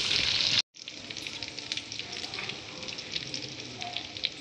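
Gola kababs frying over low heat in a pan, giving a steady, close hiss of sizzling oil with crackling pops, broken by a brief silent gap near the start before the sizzle resumes and continues evenly.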